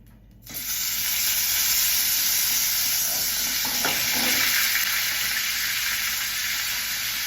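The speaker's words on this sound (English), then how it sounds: "I'm searing it, so I'm gonna do the other side now." A sous vide steak hits a hot pan after a brief quiet moment, bursting into a loud, steady sizzle that holds evenly to the end with no voices.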